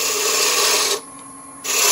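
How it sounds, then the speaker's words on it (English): A roughing gouge cuts into wood spinning on a lathe while turning a honey dipper, making a loud, steady rasping hiss that stops briefly, then starts again. "let's go on and knock this down with my roughing gouge."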